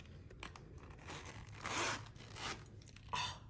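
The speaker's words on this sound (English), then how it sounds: "Did you hear that buttery soft zipper that goes all the way around and opens up flat like so, like a book?" A soft zipper runs around the edge of a case, a faint quiet rasp heard in several short pulls and bursts.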